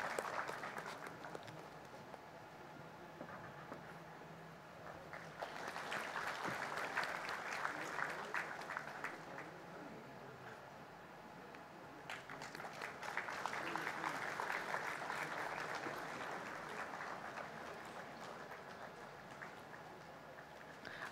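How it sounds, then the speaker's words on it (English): Audience at a national company secretaries' conference in Varanasi claps in two long waves of moderate, steady applause heard from a distance across a large hall. "Let's have a big round of applause"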